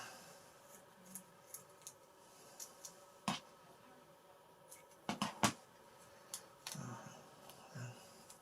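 Scissors snipping covering material on an FMS 1800 Ranger model airplane build, a series of sharp, separate close cuts with small handling rustles between them, fairly quiet and with no talk.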